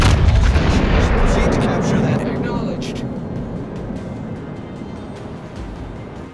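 Heavy naval artillery from the battleship Musashi in World of Warships thunders in a dense, sustained barrage of booms and rumble that slowly fades, with crackling impacts layered over the top.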